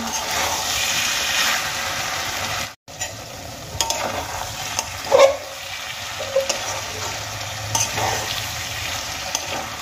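Brinjal and potato curry cooks in a pan with a steady, close sizzle and frying crackle, broken by the occasional scrape or stir of a spoon and a brief drop-out near the start.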